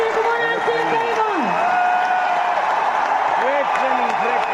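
Loud applause rises from an audience at an anniversary event, a continuous wash of clapping while a voice talks over it near the start and again toward the end.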